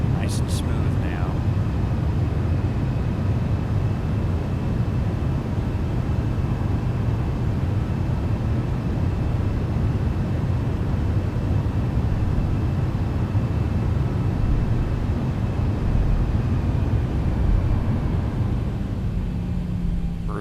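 Loud, steady low roar of airliner thrust reversers during the landing rollout in a flight simulator game, a dense rumble filling the whole stretch with no pauses and no talk over it.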